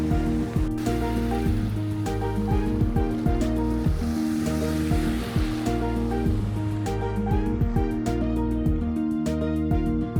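Ocean waves washing onto the beach at Hoi An, Vietnam, a steady loud surf wash with rolling breaks and no voices.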